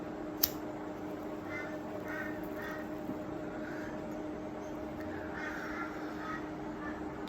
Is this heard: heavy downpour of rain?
no